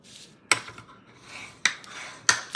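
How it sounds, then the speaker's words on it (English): Cardstock for a card base is folded and burnished by hand, giving three sharp, close rubbing swipes with quiet gaps of soft handling between them. "We are just going to simply fold this in half and burnish this down."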